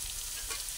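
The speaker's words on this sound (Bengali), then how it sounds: "এরপর আমি পেঁপেটাকে ভেজে নিচ্ছি" Papaya pieces fry in a pan with salt, giving a short, steady, fairly quiet sizzle with no talk.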